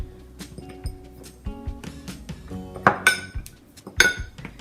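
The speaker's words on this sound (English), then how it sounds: "And then you snap on your lids, and that's it." Plastic lids being snapped onto meal prep containers in a kitchen, a series of sharp clicks and knocks with a few brighter clinks, close and fairly loud, with no talking.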